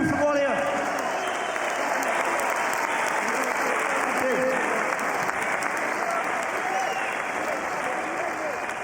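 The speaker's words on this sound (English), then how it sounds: "I give a round of applause to Ben Tackie" Sustained crowd applause and cheering at a boxing event honoring Ben Tackie after a twelve-round fight, a continuous loud roar of clapping with an announcer's voice over it.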